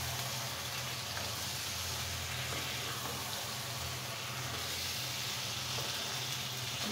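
Potatoes go into chicken curry that has already been frying for several minutes, giving a steady, continuous sizzle with a low rumbling hum underneath and no voices.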